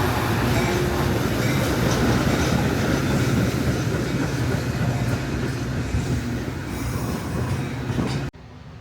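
A commuter train ride heard from inside the car, with a steady loud rumble and rolling wheel noise throughout, ending abruptly near the close.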